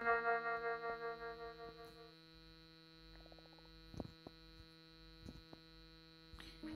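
A steady electrical drone from a fan in the office of a Five Nights horror game, pulsing at first and then settling into a constant hum with a few faint clicks, with no voices.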